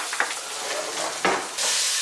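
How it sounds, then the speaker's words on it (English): Cabbage being stirred as it fries in a pot: scraping stir strokes over a steady sizzle that swells near the end, close and fairly loud, with no talking. "Okay, so I've cut all the cabbage, give it a little stir."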